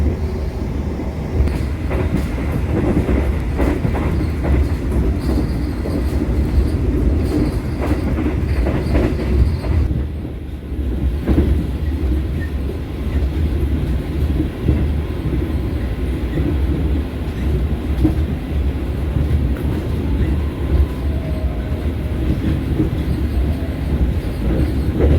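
The Argo Muria passenger train rumbles steadily along the rails through Jatibarang station with rhythmic clatter and occasional wheel screech, loud and continuous throughout.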